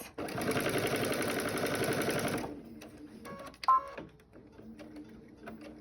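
A sewing machine stitches quilt binding in one fast, steady run of about two seconds, then stops, leaving faint handling clicks and a low hum.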